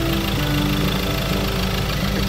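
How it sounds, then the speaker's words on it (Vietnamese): A 2020 Ford Ranger XLS pickup engine running smoothly at idle, a loud, steady, close hum with an even mechanical rumble throughout and no talking. "máy nổ rất là êm luôn"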